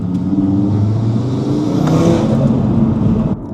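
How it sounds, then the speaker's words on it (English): An Audi RS3 8V facelift with a CTS Turbo intake revs hard and accelerates, with a steady loud roar and whooshing intake rush building toward the middle before easing off. "let's see if we can hear this intake"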